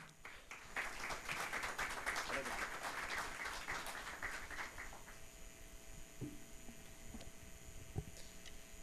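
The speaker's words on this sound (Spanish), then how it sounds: "recibamos con fuerte aplauso al doctor Flavio Galván Rivera" Applause from a seminar audience welcoming a speaker at an international electoral justice event, fairly faint and distant, with dense clapping that thins out after a few seconds into room hum and scattered sounds.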